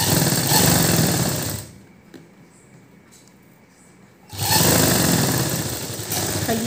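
Sewing machine stitching the sleeve joint of a blouse, a loud steady motor whir in two bursts separated by a quieter pause of about three seconds.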